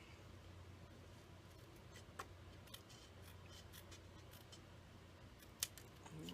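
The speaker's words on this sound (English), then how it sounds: "I'm just going to cut them with scissors." Quiet room with a few faint, sharp snips of scissors spread across the clip, the loudest near the end, over a low steady hum.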